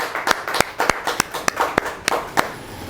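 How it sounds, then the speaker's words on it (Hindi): Sparse, separate hand claps at a poetry recital for poet Manish Madhukar, about ten sharp claps spaced unevenly over a few seconds, close and fairly loud, with no talk. "आइए हम सुनते हैं मनीष मधुकर जी को आपकी जोरदार तालियों के बीच।"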